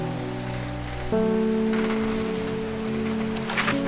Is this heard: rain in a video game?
yes